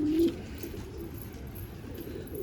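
A pigeon coos softly and close at the start, followed by a quieter stretch of faint cooing and light rustle in a calm indoor loft setting.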